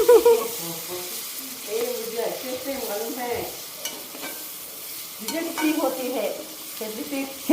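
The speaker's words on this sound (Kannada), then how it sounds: "ಈಗ ಪುದೀನ ಹಾಕೋದು" Fresh mint tossed into jackfruit biryani frying in a pan, a steady close sizzle with scraping stirs and clinks. A voice murmurs faintly underneath.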